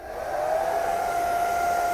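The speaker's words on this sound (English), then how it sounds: "Ye old famous hairdryer test." A hair dryer in a river cruise ship cabin whirring steadily, a constant close motor hum with airy hiss and a faint whine, no speech.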